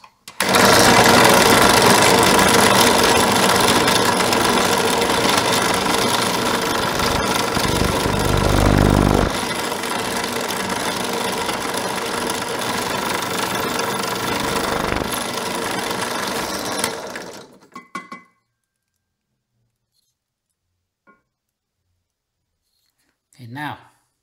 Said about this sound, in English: now I've installed my 1/8 inch drill bit so I can bore out the correct diameter for the ferrules